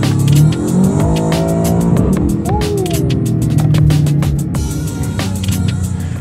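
A 2025 Aston Martin DBX707 SUV accelerates hard, its engine roaring loud and close as it climbs through rising revs with gear changes and brief tire noise.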